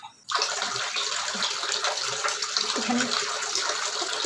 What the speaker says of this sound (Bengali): জল দিয়ে দিলাম, এটা মিক্সিতে পেস্ট করে নেবো।